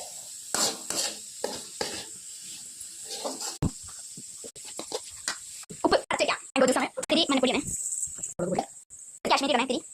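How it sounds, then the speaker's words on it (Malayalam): Chopped carrots sauté in a hot pan for chapati noodles, with short bursts of sizzling and spoon stirring scrapes, broken by pauses, while someone talks over the cooking nearby. "അരിഞ്ഞു വെച്ച ക്യാരറ്റ് ചേർത്ത് കൊടുക്കുക. എന്നിട്ട് നന്നായിട്ട് വഴറ്റുക."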